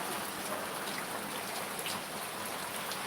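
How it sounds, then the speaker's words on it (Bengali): Steady rain falls in drops outdoors in Bangladesh, a dense even patter with soft individual drips, constant and moderately loud, with no talk. "এখানে আপনারা দেখতে পাচ্ছেন যে বৃষ্টিগুলো পড়তেছে, মনে হচ্ছে যে ফোঁটা ফোঁটা পড়তেছে"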